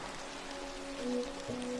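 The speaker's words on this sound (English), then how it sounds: "guided by the natural rhythm of the rain and the distant, soothing sounds of the ocean" Steady rain on an island, a soft continuous hiss with a faint low tonal hum beneath, evenly sustained with no distinct waves standing out.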